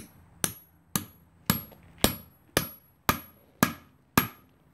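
A hammer drives a carriage bolt while an anvil is mounted, eight sharp, loud, evenly spaced metallic strikes about half a second apart, each with a short ringing decay and no voices.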